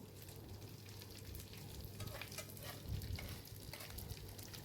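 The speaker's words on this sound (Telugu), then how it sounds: "కడిగిన తర్వాత ఇగో ఫ్రై చేసుకుంటున్నానండి." Washed dry fish fries in a pan, a soft steady sizzle with occasional scraping stirs, faint and close, with no talk.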